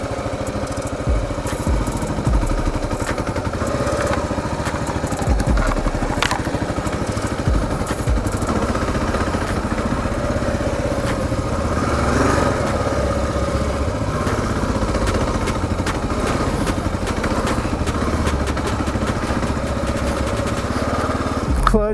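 Kawasaki KLR 650 dual sport motorcycle running steadily on a forest road ride, engine droning loud and continuous for the whole stretch while the clutch is worked in and out, with wind and clatter mixed in.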